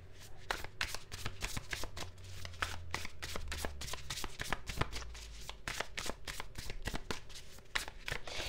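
Tarot cards being shuffled close up, a steady run of crisp riffling and slapping card noises, with a low hum underneath.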